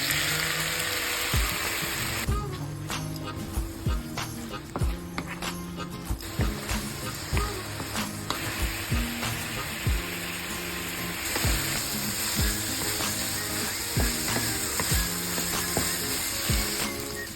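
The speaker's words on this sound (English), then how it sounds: "we heat oil in the pan and then we cook the meat" Beef steak meat fries in hot oil in a pan with a loud, steady, close sizzle, dotted throughout with rapid crackles and pops.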